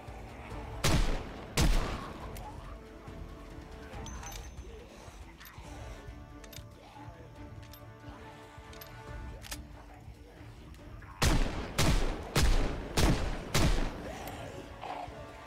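Handgun shots in a survival video game, in two clusters of sharp, loud reports: a pair early on and a quick burst of five or six near the end, with mechanical clicks and a quiet ambient bed between.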